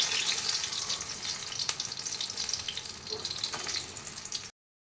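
Eggplant pieces fry in hot oil with a dense, even crackling sizzle heard close, holding steady for several seconds before cutting off abruptly.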